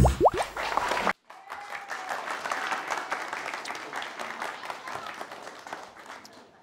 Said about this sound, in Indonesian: Awal tadi tepuk tangannya rame dan ngapa sekarang ngendor-ngendorin tepuk tangannya?